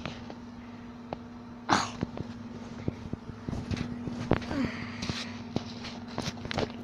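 A pet cat indoors at home gives a short, sharp sound near the mic, followed by scattered light taps and rustles while a person speaks softly nearby.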